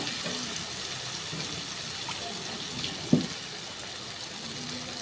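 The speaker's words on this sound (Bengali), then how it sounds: "মশলার বাটিটা ধুয়ে একটু জল দিয়ে দিলাম" Water from a rinsed spice bowl poured into a pan of fried onions and spices for a tilapia curry, a soft steady gushing hiss with a single clink partway through.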